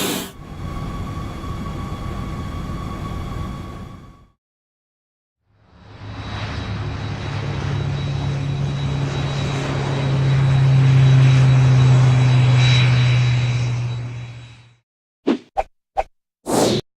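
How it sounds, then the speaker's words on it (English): A private jet's engine roars and builds into a loud, sustained whine for several seconds before fading, preceded by a shorter burst of engine noise and followed by a few quick clicks. "Private jet."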